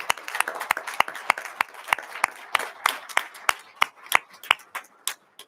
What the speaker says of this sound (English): please join me in giving a recorded round of applause for Eric that he can enjoy at a later time